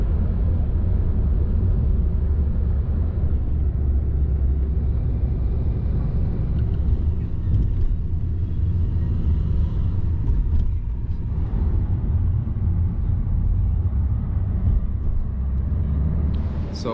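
A car interior on the road to Izmir airport in Turkey, with a constant heavy low rumble of engine and tyres throughout and occasional faint knocks and shifts, steady and close.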